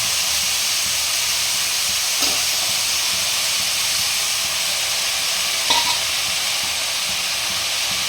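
Fresh spinach goes into potatoes frying in a pan for a spinach, potato and eggplant dish, and a steady loud sizzle and hiss runs throughout, with two brief stirring scrapes.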